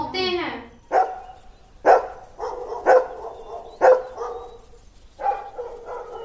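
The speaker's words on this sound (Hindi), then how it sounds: "सो डॉग बार्क्स। जो है कुत्ते जो है वो भौंकते हैं।" A dog barks five times in sharp, close bursts spaced about a second apart, after a brief whining onset, with nothing else around it.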